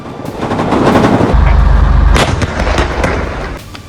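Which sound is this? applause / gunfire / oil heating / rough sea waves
gunfire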